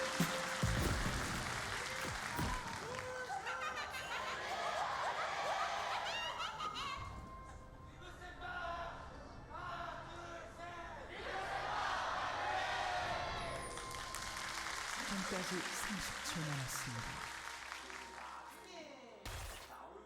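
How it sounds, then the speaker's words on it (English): Crowd of fans at a League of Legends LCK Summer Split esports match cheering, laughing and shouting in swelling waves, with loud bursts separated by quieter murmuring stretches. "There was some interesting sounds during that fan cheer"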